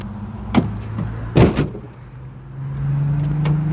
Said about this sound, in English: That door, good slam there.